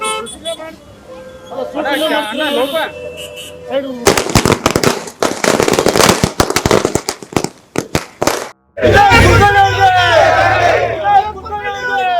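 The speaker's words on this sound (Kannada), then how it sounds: "ಪಟಾಕಿ ಸಿಡಿಸಿ ಸಂಭ್ರಮ ಪಟ್ಟಿದ್ದಾರೆ" A rapid, crackling string of firecracker bursts rattles loudly for several seconds at a celebration by political supporters, with voices and crowd noise before and after.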